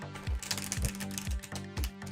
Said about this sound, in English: Let's do maybe one more shuffle.